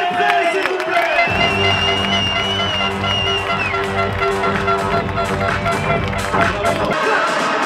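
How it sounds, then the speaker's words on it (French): Crowd at a supercross championship event cheering and clapping for the champion, a lively babble with whistles and applause under loud arena music, while an announcer speaks over the top. "Merci d'applaudir Maxime Després, s'il vous plaît"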